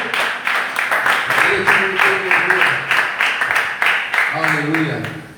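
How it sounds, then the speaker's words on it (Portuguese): A church congregation applauds during a Portuguese-language worship service: steady, dense clapping runs throughout, with a voice speaking and calling out loudly over it. "Se você puder aplaudir o Senhor"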